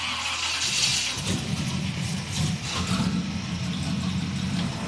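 A 1920s T-bucket hot rod engine cranks and catches, then settles into a steady, throaty idle with a low rumble close by, running continuously with no talk over it.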